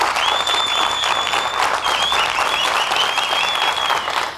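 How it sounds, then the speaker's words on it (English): A television studio audience applauds the judges of a leadership contest show, giving a loud, continuous wash of clapping with high whistles or cheering tones floating above it. "Let's give them a round of applause."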